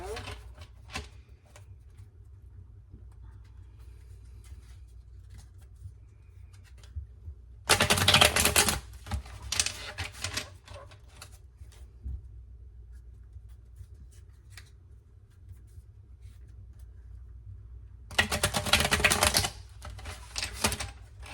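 Two quick bursts of tarot cards riffling and snapping together, each about a second long, separated by quiet stretches with soft handling sounds and low background hum.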